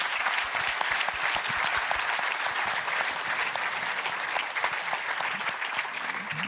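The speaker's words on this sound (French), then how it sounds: "Je vous propose de les applaudir pour les remercier de leurs interventions." Sustained applause from a congress audience thanking round-table speakers at a plenary session, dense and steady throughout without a break.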